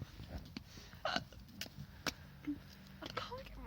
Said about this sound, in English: These literally are the strangest hiccups I've ever heard in my life.